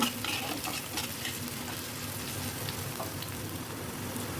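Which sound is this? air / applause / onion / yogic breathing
onion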